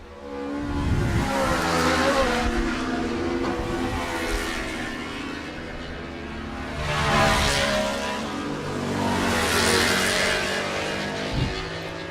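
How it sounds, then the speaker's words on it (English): Three racing motorcycles, a couple of bike lengths apart at a Saturday round-five race, accelerate out of a turn; their engines roar loudly and steadily, swelling and fading as they pass. "So the three riders separated by only a couple of bike lengths coming out of turn 9."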